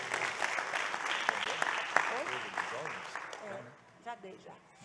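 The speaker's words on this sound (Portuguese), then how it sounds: "vamos dar mais uma salva de palmas para Jesus." A church congregation claps together in a sustained burst of applause, loud and dense at first and thinning out near the end, with voices and cheers mixed in over the clapping.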